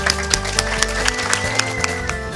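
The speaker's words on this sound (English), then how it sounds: "We should give all of you a large round of applause" A gathered workforce applauds at the dedication of the Foothills Solar Plant near Yuma, Arizona, with steady crowd clapping and a few sharper nearby claps over a humming outdoor background.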